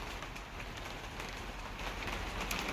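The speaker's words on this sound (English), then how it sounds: "And of course the rain had to come back" Steady rain patters on a surface in a dense, even hiss, fairly quiet and continuous, with no voices.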